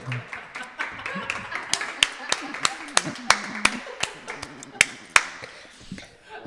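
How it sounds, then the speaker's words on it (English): Rhythmic clapping by one or two people, sharp, evenly spaced claps over a lively conversation with voices talking throughout. "Applause"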